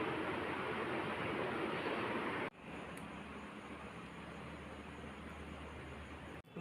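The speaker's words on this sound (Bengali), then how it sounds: "জল ভরছে ছেলে।" A boy fills a container with water: a steady, dense rush of running water that cuts briefly near the middle, resumes at an even level, then breaks off again just before the end.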